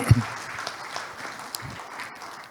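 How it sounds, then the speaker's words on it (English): Audience applause at a business summit on ESG and governance, a short burst of clapping from a crowd that quickly thins into scattered, fading claps in a large room. "Another big applause, please, to Ms. Sofia Watimena."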